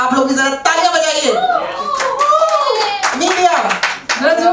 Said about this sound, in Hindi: जरा आप लोग भी जरा तालियां बजाइए.